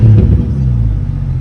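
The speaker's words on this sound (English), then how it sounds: "I cut the muffler off. I didn't even take a video of that. I kind of forgot, but we'll go ahead and give you a rev." Jeep Grand Cherokee engine revving with the muffler cut off, a loud, deep, raspy exhaust rumble that holds steady and close for the whole burst, with no talk.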